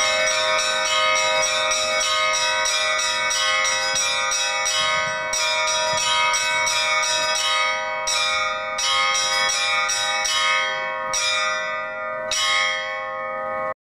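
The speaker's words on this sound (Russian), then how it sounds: "Пасхальный колокольный звон в исполнении выпускника школы звонарей Ильи Михайлова" Easter church bells rung by a trained bell-ringer at a concert, a dense peal of bright overlapping strokes with long ringing decay, repeated clusters of strikes sounding loud and close throughout without voices.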